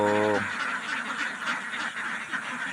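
Ducks on a duck farm give one short nasal call at the start, then a jumble of softer honking quacks continues in the background.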